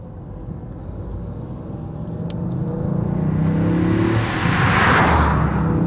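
A Toyota GR Yaris sets off in first gear, its engine and road rumble heard from inside the cabin and rising steadily in loudness as the car gathers speed, with no one talking.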